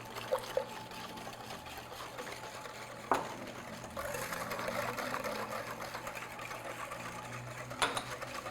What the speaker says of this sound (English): Let's keep whisking.